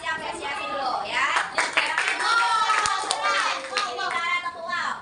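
Schoolchildren in a sixth-grade maths classroom clap for a group that has just presented, with scattered sharp claps mixed with children's voices and chatter, fairly close and lively.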